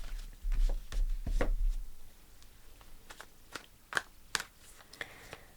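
Tarot cards are shuffled close up, first in a dense riffling burst, then in scattered sharp flicks and taps as single cards slide and snap. No one speaks.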